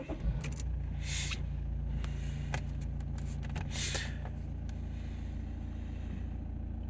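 A £2000 used diesel car with a DPF starts after an ignition cycle, a close cranking burst that catches into a steady low idle rumble with a few clicks and brief hissy whooshes.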